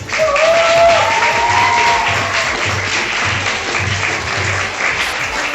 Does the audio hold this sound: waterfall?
no